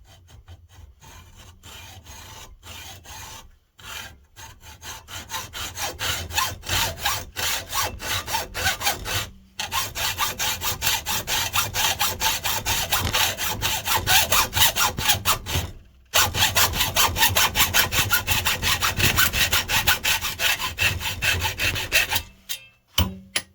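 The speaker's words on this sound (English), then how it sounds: "so I'll use an hacksaw" Steady back-and-forth strokes of a hand hacksaw cutting a metal plate for an RC tipper truck chassis, close and rasping, running continuously with a few brief pauses between bursts of sawing.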